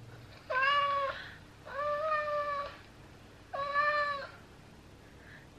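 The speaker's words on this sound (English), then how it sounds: "like a real meow" A cat meows three times, each a drawn-out, clear cry with gaps between, close by in a quiet room.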